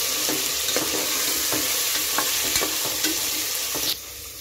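Potato sambar stirred in a pot, a spoon scraping in steady repeated strokes over a constant close sizzle, the texture thinning abruptly near the end.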